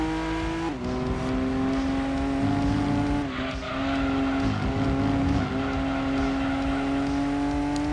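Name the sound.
small-engined car driving in video game Gran Turismo 2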